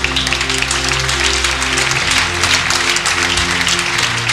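Congregation at a French-language charismatic church service applauding to acclaim the Lord, a dense, steady wash of clapping throughout over sustained organ or keyboard tones.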